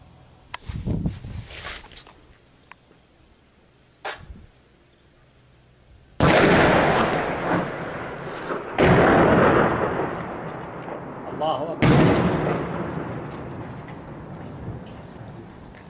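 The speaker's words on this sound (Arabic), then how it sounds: "قصف على مدينة بصر الحرير" Heavy shelling strikes the town of Busr al-Harir in Daraa, with a few distant thuds first, then three loud, rumbling explosions a few seconds apart that roll out and fade.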